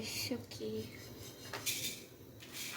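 A pan of dry-roasted sesame seeds is lifted off a home kitchen stove, giving a few light metallic clinks and scrapes of cookware against a soft background hiss.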